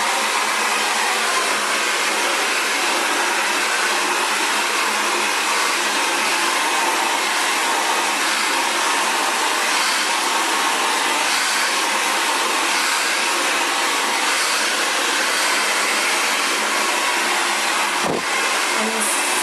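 An Xtava Allure Professional Ionic Ceramic hair dryer blows continuously while drying curly hair, a loud, steady, close whoosh that fills the whole stretch with no talking.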